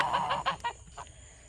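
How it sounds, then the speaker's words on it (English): A chicken clucks in a series of quick, close, rhythmic calls that taper off into quiet. "There's a chicken up there."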